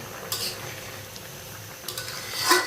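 Faint clinks of pots and utensils while turnip and potato cook, a few light metallic taps over a low steady background hum, with no talking.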